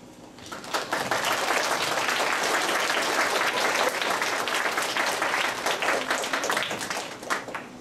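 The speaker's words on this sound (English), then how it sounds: "We also ask that you applaud generously" Audience at an elementary school awards show claps enthusiastically, a dense, loud burst of applause that rises quickly, holds steady, then tapers near the end.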